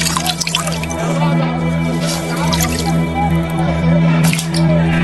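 Water drips and splashes continuously as hands are washed before a crowd, with wet squishing and irregular drops over a low, steady background murmur.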